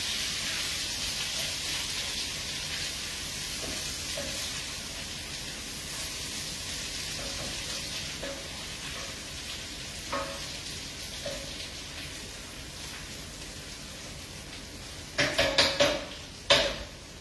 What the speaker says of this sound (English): I want to get that sizzle going.